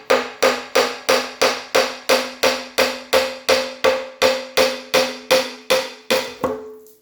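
Hammer taps on a Triumph TR6 cylinder head to loosen it during an engine rebuild: about sixteen sharp, evenly spaced metallic strikes, close and loud, ringing slightly, with no voices.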